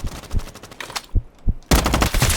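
Gunfire from a Roblox shooting video game crackles in rapid automatic bursts, with single shots in between and a dense loud volley at the end, all close and punchy.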